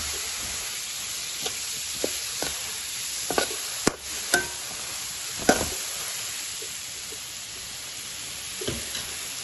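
Masala with black pepper sizzles softly in a pan for a homemade pickle, while a spoon stirs it in occasional scraping strokes over a low, steady hiss.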